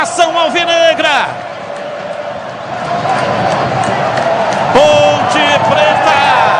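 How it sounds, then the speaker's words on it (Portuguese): Ponte Preta football fans in a stadium shouting and chanting together, a loud sustained roar of many voices with rising cheers, a commentator's voice heard over it. "Olha o grito do povo."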